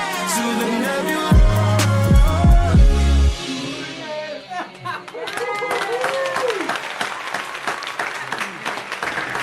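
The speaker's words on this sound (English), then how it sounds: "I pressed the applause button at the right time." A recorded applause effect triggered from a button during a live music stream, loud crowd clapping and cheering that rises over a pulsing beat and sung vocals, continuing for several seconds.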